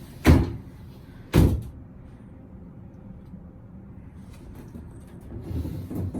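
A shower door in a Royal Caribbean Independence of the Seas balcony cabin slides and bangs shut twice in quick succession, close and loud, followed by quiet room tone and faint rustling.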